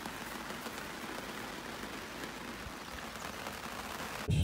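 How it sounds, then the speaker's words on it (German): Steady rain falling and pattering on surfaces outdoors in Nürnberg, a continuous even hiss with no talking, ending in a brief loud bump. "Jetzt regnet es hier."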